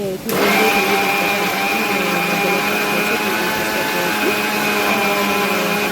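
A mixer grinder starts abruptly and runs with a loud, steady whirring whine, constant and close.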